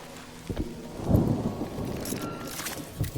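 Rain and rolling thunder in the video game Mind Over Magic, a steady patter of rainfall with a low rumbling thunder swell that builds and fades, no voices over it.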